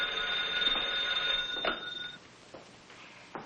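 An old-fashioned telephone bell rings once in a continuous trill indoors, then cuts off and leaves faint clicks and handling sounds.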